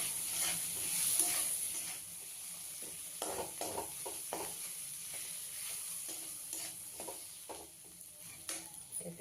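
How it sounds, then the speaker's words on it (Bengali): Boiled potatoes fry in a pan for a bread pakoda filling, a soft continuous sizzle broken by several louder scraping stirs and shuffles at an uneven rhythm, nearby and fairly quiet. "দিয়ে আলুগুলো ভেজে নেবো।"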